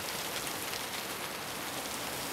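Steady, even rain pours down in a night street scene at a bus stop, a continuous close hiss filling the whole moment with no voices over it.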